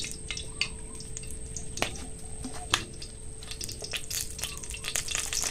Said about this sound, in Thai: กระทะมาตั้งแล้วก็ใส่น้ำมันไปหน่อยเพื่อจะผัดพริกแกงครับ